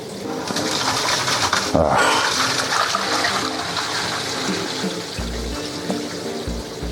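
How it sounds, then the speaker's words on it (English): Rushing water from a toilet flush, a steady broadband whoosh lasting several seconds with gurgling near the end. "Another toilet flush."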